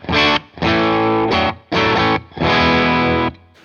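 An electric guitar plays through a Boss overdrive pedal in four sustained, crunchy chords with short gaps between them, loud and close with no talking.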